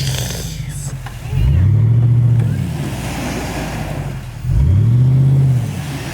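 A Jeep engine revs hard twice during an off-road recovery in the woods, each rev swelling and falling away, with people talking around it.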